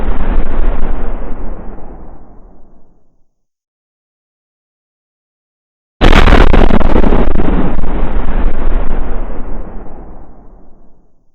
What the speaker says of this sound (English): The carriage exploded before the guard could give the order.